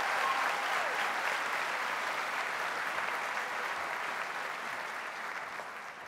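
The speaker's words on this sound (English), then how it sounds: "A round of applause, please, for our special guests and dignitaries." Guests at a high school graduation ceremony receive sustained applause from a large crowd. The clapping is loud and dense and fades slightly toward the end.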